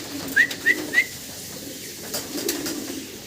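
Three quick whistled notes ring out close together, then a soft, low murmur of pigeons lingers under faint background noise.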